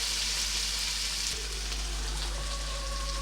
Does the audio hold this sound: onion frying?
yes